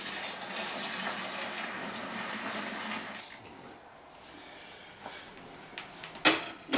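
Warm water runs and splashes steadily into a homebrew primary fermenter pail for a few seconds, then eases off, followed by a few faint knocks and a sharp clatter.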